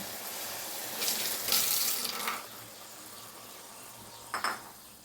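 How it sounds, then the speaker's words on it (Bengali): Hot water poured a little at a time into a pan of vegetarian ghugni, giving a brief splashing rush, then a quieter stretch and a short second pour, close and moderately loud. "এবার আস্তে আস্তে করে গরম জলটা অল্প অল্প করে অ্যাড করে দেবো। দিয়ে দিলাম গরম জল।"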